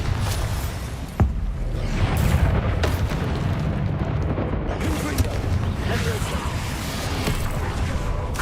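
A Confringo fire spell in Hogwarts Legacy bursts with a sharp boom followed by rumbling blasts and crackling combat noise over several seconds, dense and loud, with speech mixed in.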